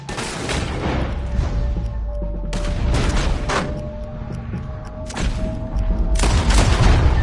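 Gunfire in Red Dead Redemption during a shootout with lawmen around a wagon: repeated sharp shots and volleys, some loud and near, others quieter, spread across a busy background.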